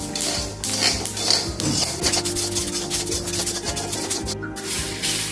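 Chasku seeds roasting in a pan while being stirred, giving a steady dry scraping and rattling of seeds against metal with a continuous gritty texture.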